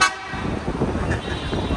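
Car horns honk in busy Baghdad street traffic, one loud blast up front followed by a steady wash of nearby horns and engine rumble throughout.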